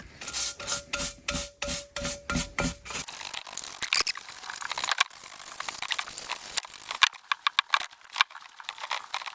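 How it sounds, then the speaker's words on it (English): A brush scrubs a cast iron pulley clean with acetone, working into its nooks: a quick run of rhythmic rubbing strokes, then looser scrapes and scattered brushing, close and fairly quiet with no speech. "I'm just gonna start, giving this the brush down here and try to get in all these little nooks and crannies"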